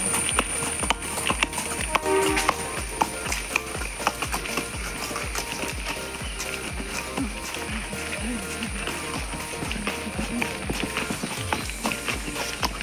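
Horses walk along the roads of the Matheran hill station, their hooves clip-clopping in a steady, close rhythm throughout, with faint voices now and then in the background.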